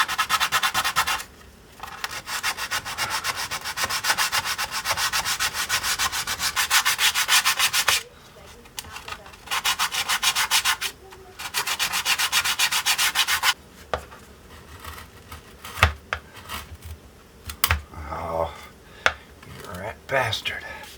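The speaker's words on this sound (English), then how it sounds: "I'm gonna just start sanding it." Sanding scalloped wooden top braces by hand, with long runs of steady, close, rasping strokes broken by short pauses, then sparser scrapes and taps of tools and wood toward the end.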